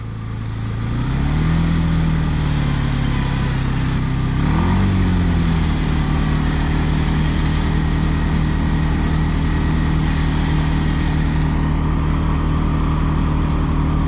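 A quad bike engine stuck in water or mud, revving under gentle throttle while being winched out, with a steady low drone that rises twice early on and then holds a constant loud hum up close.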